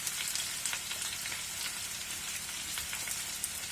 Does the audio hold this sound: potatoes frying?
yes